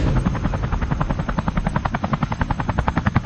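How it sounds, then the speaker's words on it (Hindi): A helicopter flies away, its rotor beating in a loud, steady, rhythmic chop that stays strong throughout, with no voices over it. "अरे वो चोर मेरा हेलीकॉप्टर चुरा कर भाग रहे हैं"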